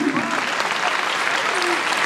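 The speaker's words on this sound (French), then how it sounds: "on peut vraiment vous applaudir" Dense applause from an audience at a ballet academy gala fills a short stretch, steady and close, with voices faintly underneath.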